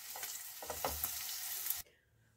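Paneer sizzles and crackles as it fries in a pan, a dense steady hiss with small pops and a stir or two, then it cuts off abruptly into quiet.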